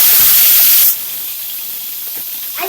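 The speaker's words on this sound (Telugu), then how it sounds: "చూడండి ఫ్రెండ్స్, మనకి అల్లం వెల్లుల్లి పేస్ట్ బాగా మరిగింది" Ginger garlic paste frying in a pan on a gas stove for egg fried rice, a steady loud hissing sizzle that is brightest at first and then settles to a softer continuous sizzle, with no talking.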